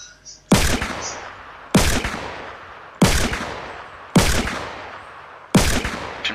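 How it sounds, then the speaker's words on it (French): Pump shotgun blasts in Fortnite, five loud sharp shots spaced about a second apart, each with a short decaying tail, close and isolated. "Je tire au pompe"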